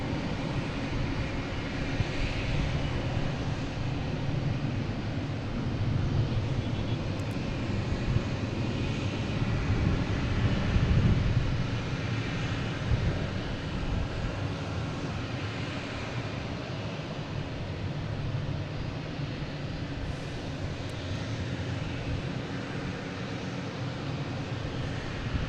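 An American Airlines Embraer E175 jet at Boston Logan gives off a steady, broad engine roar that swells slightly midway, a continuous rumble with no voices.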